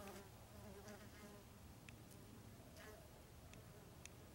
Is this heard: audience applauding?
no